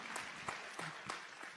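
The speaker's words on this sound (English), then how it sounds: "Give Chris a round of applause." A town hall audience gives a round of applause, heard faint and distant as a brief soft wash of clapping with a few sharper claps poking through.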